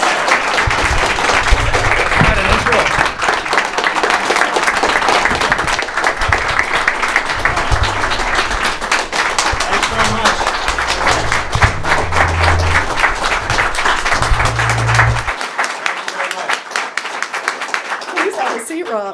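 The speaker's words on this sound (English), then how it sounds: "please give a huge round of applause to Mr. Rob O'Neill." A large live audience at a stage event gives sustained loud applause with cheering for the whole stretch, steady and dense throughout.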